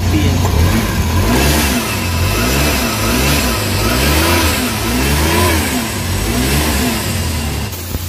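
A Suzuki DA64 engine with a reported strong-vibration fault when the AC is on runs close up. The loud, continuous drone rises and falls in pitch in a wavering, uneven rhythm, with no talk over it.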